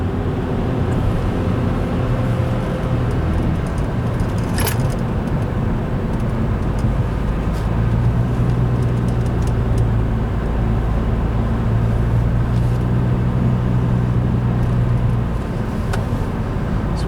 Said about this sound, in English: Surprisingly, a lot of traffic on the road tonight.